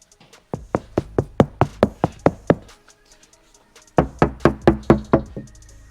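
Knuckles knock on a GMC Sierra door treated with stage 2 sound deadening, giving two runs of about eight dull, close thuds each, separated by a short pause.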